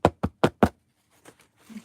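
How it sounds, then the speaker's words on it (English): Four sharp, evenly spaced knocks on wood ring out close and loud. Softer taps and faint rustling follow after a short pause. "knock on wood, knock on fabric"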